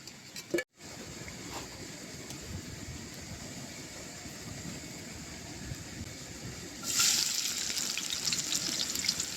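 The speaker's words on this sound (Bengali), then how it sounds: "তো আলুগুলো আমি ভেজে নিচ্ছি" Potatoes frying for biryani in a pan of hot oil, a steady hiss and sizzle that swells louder and brighter near the end, with no talking.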